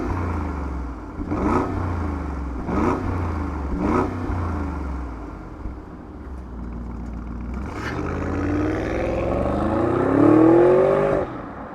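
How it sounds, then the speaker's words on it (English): A 2025 Audi SQ7 engine with a new exhaust idles with a few sharp throttle blips, then rises into a loud, sustained rev with a deep exhaust rumble, close by. "why don't we fire it up so you can hear that new exhaust."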